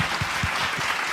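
An audience at a regional digital payment conference claps steadily in a short burst of moderate applause.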